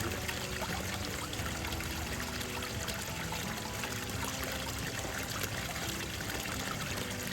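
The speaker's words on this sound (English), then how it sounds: "Now let me pan this real quick." Steady trickling and pouring of water while panning dirt from a desert wash for gold, a continuous close liquid wash with no talk.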